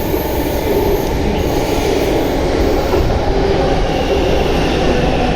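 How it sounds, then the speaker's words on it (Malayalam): A metro train arriving at a station rumbles steadily nearby, wheels grinding and squealing faintly on the rails, a continuous loud roar with no voices. "അങ്ങനെ നമ്മളുടെ മെട്രോ വന്നു"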